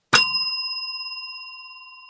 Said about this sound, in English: I'm going to time it with the sound of a bell